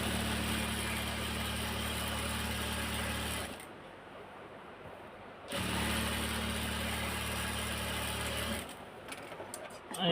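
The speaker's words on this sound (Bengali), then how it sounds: "তারপরে এখানে এখন সেলাই দিয়ে দিচ্ছি।" A sewing machine stitches fabric in two steady, whirring runs, each several seconds long, with a short pause between them. The machine sounds close and continuous, and faint clicks follow the second run.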